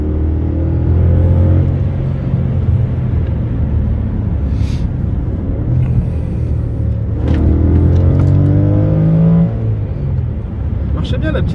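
Steady engine rumble from a car being driven, with tonal gear-change sweeps rising and falling, continuous and fairly close beneath frequent conversation.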